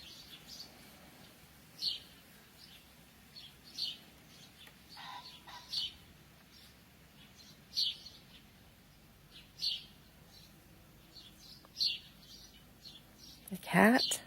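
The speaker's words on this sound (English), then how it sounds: "I'm being very quiet and letting you listen to the birds while I watch the sunrise" Birds singing at sunrise on a hot summer morning, scattered short chirps and calls repeating every couple of seconds at moderate distance over quiet outdoor ambience.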